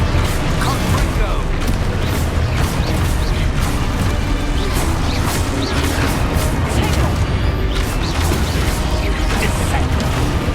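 A Confringo spell explodes during Hogwarts Legacy combat on PS4, with loud booms and crashes in a dense, steady barrage of impacts and a shouting voice mixed in.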